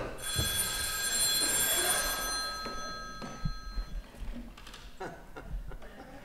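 A telephone bell rings with a bright metallic trill for about four seconds on a theatre stage, followed by soft shuffling and faint movement.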